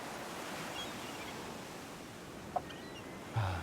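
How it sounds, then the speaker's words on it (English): Soft ocean waves wash in a steady, gentle hush, faint and distant, with a brief bird call near the end. "Nice calming waves."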